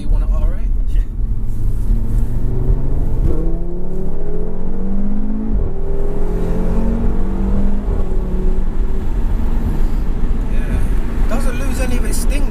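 A tuned 440 bhp APR Audi RS3 pulls hard through the gears, engine pitch climbing in repeated rising sweeps with shifts between, loud from inside the cabin with people talking over it.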